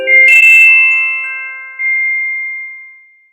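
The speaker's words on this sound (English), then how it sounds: "And the celesta sound is different than hammers hitting on metal, striking metal." Small hammers strike the metal bars of a celesta, two bell-like notes chiming clearly and ringing out with a long, fading sustain in otherwise quiet surroundings.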